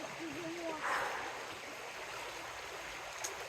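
Steady rushing of a flowing river, a constant broad wash of water with a faint voice briefly audible over it.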